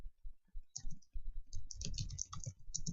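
Fingers type on a computer keyboard, a quick irregular run of close, crisp key clicks that thickens into steady typing.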